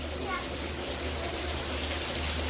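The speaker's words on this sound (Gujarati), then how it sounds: "ધડબડાટી પાણી પડે છે" Heavy monsoon rain pours down at a cow shelter, a dense, constant rushing hiss of falling water that fills the whole moment without a break.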